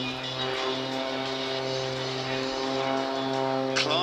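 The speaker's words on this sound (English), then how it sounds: "resettles the aircraft before pulling into another high-energy manoeuvre" Aerobatic aircraft performing high-energy manoeuvres at a seaside airshow, a steady droning propeller-engine tone held at moderate distance with little variation.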